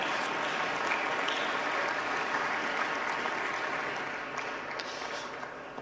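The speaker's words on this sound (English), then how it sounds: "can I consider that the applause means that we are ratifying the observer membership of Bete Mendoza?" Sustained applause from a large audience at a political party congress, a dense, steady patter of clapping that holds strong and then gradually thins and fades toward the end.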